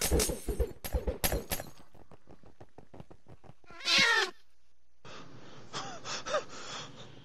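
Cats meow inside the video game Minecraft, with one loud high meow near the middle set among rapid clicking taps and game noise, and no talking.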